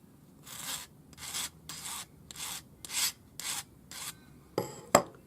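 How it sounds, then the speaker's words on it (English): A small file rasps across the cut end of jewelry wire for earrings, about eight short, evenly spaced strokes, close and crisp, ending with a sharp tap. "cut it off, file the end flat"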